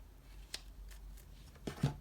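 Tarot deck being shuffled by hand, giving a few brief soft riffling and snapping card sounds close by in a quiet room.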